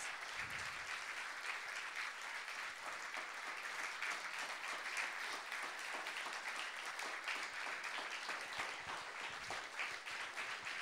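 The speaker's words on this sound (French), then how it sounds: "Vous pouvez des grands applaudissements pour ce masterclass" An audience applauds at the close of a film masterclass with Dario Argento at the BIFFF 2013 festival, sustained dense clapping from a crowd in a hall, steady and continuous throughout.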